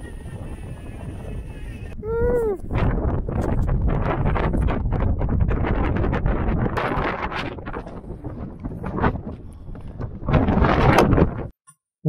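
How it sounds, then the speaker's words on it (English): Strong crosswind buffeting the microphone during a DJI Mavic Mini drone flight, a loud, continuous gusty rumble with fluctuating roar, preceded by a brief rising whine, then cutting off abruptly. "The wind's coming from the left-hand side"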